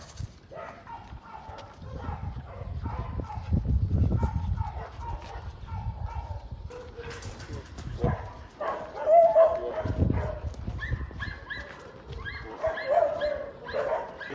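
Rescued dogs at an animal sanctuary bark and whimper close by in a busy, irregular mix of yelps and whines, with some faint voices underneath.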